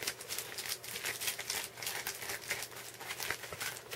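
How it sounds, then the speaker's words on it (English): Thin aluminium foil is crumpled and pressed by hand while shaping a 1/24 scale foil car model, giving a continuous close crinkling and rustling with no speech. "But what I do with it now is I just shove this back and crumple it up to the edge."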